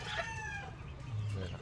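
A spangle hen and other chickens give a few short clucks and calls, fairly faint, against a noisy background.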